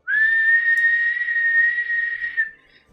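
A kettle whistles with one loud, sustained, steady high-pitched tone that holds for over two seconds and then fades out. No one speaks.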